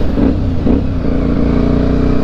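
A Yamaha Byson motorcycle engine runs loud and close, its steady rumble rising and wavering as stiff gears are shifted, with no talk over it.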